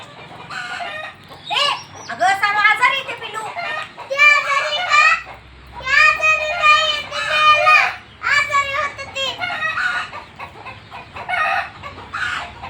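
Hens cluck and a rooster crows in a village yard, loud and close in repeated bursts, with children's voices and other people talking around them.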